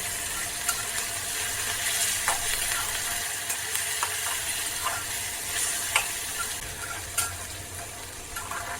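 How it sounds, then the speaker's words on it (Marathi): A tomato fries in oil in a pan for masoor dal tadka, a soft continuous sizzle with scattered sharp clicks and scrapes from stirring. "आता तो सुद्धा भाजून घेऊया एकदम मॅश होईपर्यंत आपल्याला टोमॅटो भाजून घ्यायचं"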